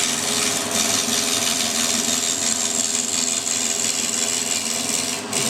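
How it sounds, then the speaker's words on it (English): Milling machine doing conventional plain milling, the cutter feeding against the direction of the cut in a workshop. A steady, close grinding and rasping hum holds throughout with no pauses. "That's a classic example there, plain milling. That's conventional milling"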